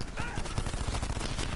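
Dense, rapid gunfire in Black Ops 4 crackles continuously, sharp bursts overlapping in a loud barrage typical of game combat.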